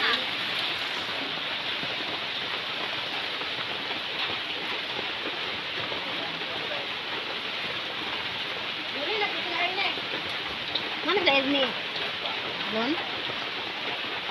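Steady rain hisses across the whole stretch, a broad even wash, with faint voices murmuring underneath toward the end.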